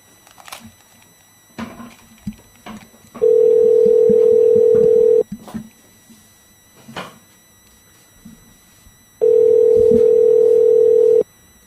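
A steady electronic telephone ringback tone sounds twice, each burst about two seconds long, separated by a pause with faint background clatter.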